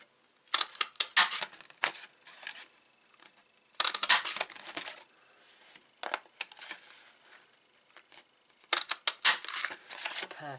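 A leaf punch cutting shapes from a foil sheet for card making, several separate bursts of crisp crunching and crinkling with quiet pauses between, close by.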